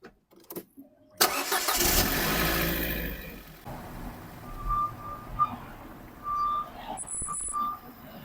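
A Ford Fiesta on a road test with a noisy front driver-side coil spring: an engine start and rumble, then quieter driving with a few short tonal squeaks and creaks, no voices.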